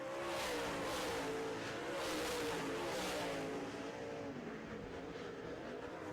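Late model race cars battling on an oval track, engines roaring loudly and continuously, wavering in pitch as several cars run close together for position.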